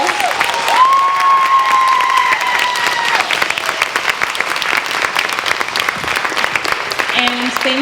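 An audience at a school oral presentation night gives the presenters another round of applause, sustained clapping from a crowd with a few cheers. A voice speaks over it near the start, and a tone rings briefly.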